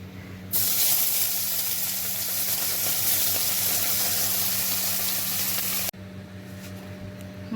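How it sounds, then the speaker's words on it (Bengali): Small lote fish fry in hot oil in a home kitchen with a loud, steady, close hiss of sizzling that runs for several seconds and then cuts off abruptly into quieter background. "মাছ ভেজে নিয়েছি,"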